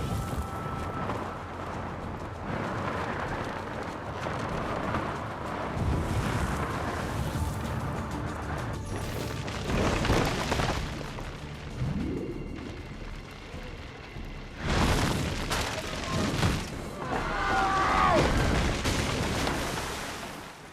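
Booms in the Assassin's Creed II video game, taken for firecrackers, crack out as several loud bursts among scattered clatter and ambient noise, spread across the stretch and strongest in two heavy clusters.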